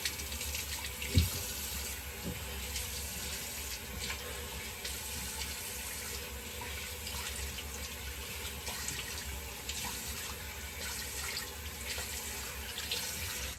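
Tap water runs steadily for a quick rinse at a sink, a continuous close broadband hiss lasting throughout, with one brief knock near the start.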